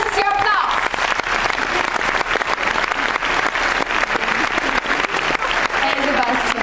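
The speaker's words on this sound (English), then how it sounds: "This is your applause." Audience applause fills a Berlinale Panorama Q&A for the documentary A Dog Called Money as the film's editor is called on stage: steady, dense clapping from a sizable crowd, loud and continuous throughout.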